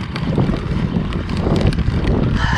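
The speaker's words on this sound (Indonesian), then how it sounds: "Angin sudah mulai datang." Strong wind blows at sea over a small fishing boat, a rough, gusty roar buffeting the microphone with water and hull noise, loud and close throughout.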